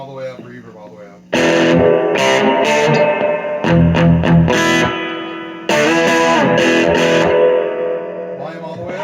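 Chords from an electric guitar ring loud and sustained through a Fender Vaporizer amp set to half volume with tone and reverb all the way up, played in several strummed phrases.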